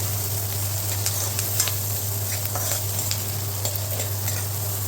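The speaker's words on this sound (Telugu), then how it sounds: "కలుపుకోండి మంచిగా కొంచెం మగ్గాలి ఉల్లిగడ్డ మగ్గాలి" Onions stirred and frying in a pan for a mango curry, with a steady close sizzle, irregular scraping stirs throughout, and a low hum underneath.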